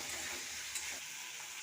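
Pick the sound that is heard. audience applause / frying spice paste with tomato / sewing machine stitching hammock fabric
frying spice paste with tomato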